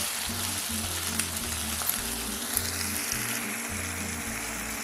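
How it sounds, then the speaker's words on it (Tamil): Chopped tomatoes with salt sizzle steadily in a pan for a village-style country chicken gravy, a close, continuous frying hiss with a low hum beneath and occasional faint clicks. "தக்காளி வதங்கட்டும்."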